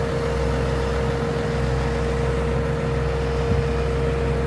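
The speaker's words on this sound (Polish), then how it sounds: "Nawet Wacław grzeje swój ciągnik" A tractor engine idles steadily while warming up before a day of sowing peas, a continuous low droning hum with a constant tone and no break throughout.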